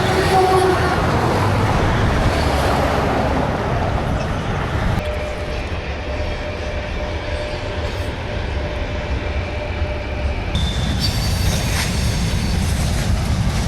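A freight train in Russia rolls past with a continuous rumble of heavy wagons and wheel noise, a thin squeal running through the middle and rhythmic rail clatter, loud and sustained without speech.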